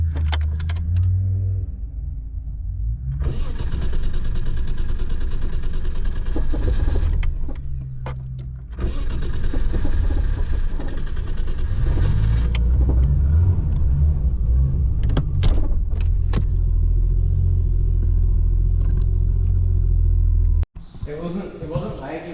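An 850 hp, nine-second R31 Nissan Skyline wagon sleeper with a VL turbo setup runs close by with a heavy, loud rumble. Keys jangle and clatter over it, and brief voices are heard.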